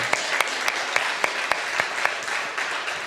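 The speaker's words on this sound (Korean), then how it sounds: "박수 한번 해주시기 바랍니다" A crowd claps steadily, a dense patter of many hands with sharper individual claps standing out at a regular rhythm.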